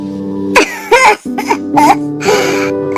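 Several harsh, raspy coughs from an elderly woman come one after another in uneven bursts, close and loud, with a hoarse, strained quality.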